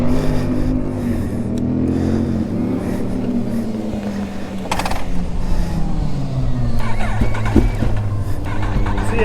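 A Yamaha R1 sport motorcycle rides off, its engine note rising and shifting steadily under loud wind and road noise, with a steady harmonic drone that sweeps in pitch as it pulls away.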